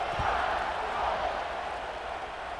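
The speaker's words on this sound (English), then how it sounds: "this crowd is buzzing after that last score." A football stadium crowd in a video game keeps up a continuous broad roar after a score, steady and fairly loud from start to finish.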